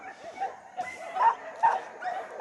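A Pyrenean Shepherd at a dog agility event gives several short, high yips and barks in quick succession, with someone commentating over them.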